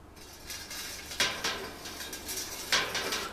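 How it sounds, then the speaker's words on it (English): Vegetable stock is ladled into glass jars, with a few clinking, scraping knocks of ladle against jar and pot at an even pace, fairly close and moderately quiet, with no talking. "Now we're just going to put our veggie stock into our jars."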